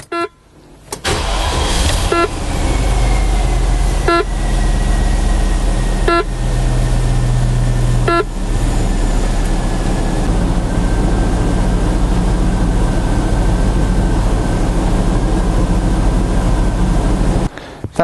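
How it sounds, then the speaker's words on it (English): A Range Rover P38 engine runs with its air suspension compressor pumping up a new airbag: a loud, continuous mechanical drone that starts abruptly, holds steady with a few faint periodic chirps, then cuts off. "You'll hear the compressor kick in, and then hopefully the airbag will pump up."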